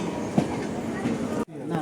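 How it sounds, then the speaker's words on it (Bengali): The Maitree Express pulls out from Dhaka bound for Khulna, its carriages rumbling and clattering in a steady rolling roar from inside the coach, with people talking over the noise and a brief dip near the end. "এই যে আমাদের ট্রেন এখন ছেড়ে দিল খুলনার উদ্দেশ্যে"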